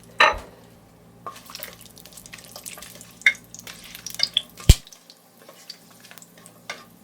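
Whole spices, dried chilies, cinnamon, bay leaf, star anise, cloves and green cardamom, hit hot oil in a pan with a sharp crackle, then sputter and sizzle softly with scattered pops and one loud clatter.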